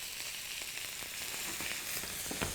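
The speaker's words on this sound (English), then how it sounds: "This is getting a good sear on." Steak sears in a hot pan, a steady dense sizzle and crackle of frying fat running unbroken throughout with no voices.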